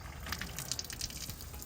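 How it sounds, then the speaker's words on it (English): Water runs from a tap through a drinking-water filter hose for a camper van, a soft steady flow with faint splashes and drips, quiet and brief, with no voices. "turn the tap on, point the filter away"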